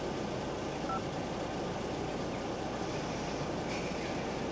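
Telephone number dialed on a phone at home, faint tones over a steady low hiss throughout, with a brief brighter blip near the end.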